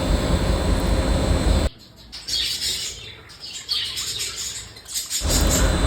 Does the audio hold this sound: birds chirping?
yes